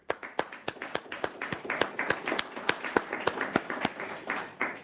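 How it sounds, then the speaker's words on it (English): A small audience at an automated-driving conference session on HD maps claps for the presenters and panelists, a steady patter of individual claps that is fairly quiet and close, with no talk over it. "Give a huge applause."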